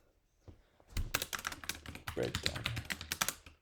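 Rapid keystrokes on a computer keyboard, a dense run of sharp clicks from about one second onward, with a brief spoken word near the start.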